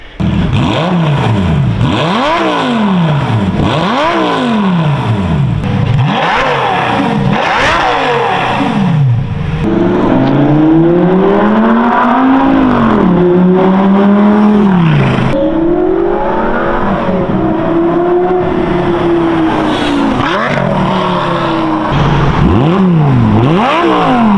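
A Lamborghini with a titanium exhaust revs hard in repeated loud bursts, rising and falling pitch sweeps, then sustained higher revs and more sharp blips, close and continuous.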